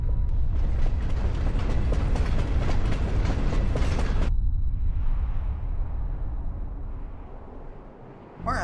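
A train in the video game Motorslice rumbles past loud and close, a dense mechanical clatter for about four seconds before cutting off, then a fainter rolling rumble that fades away.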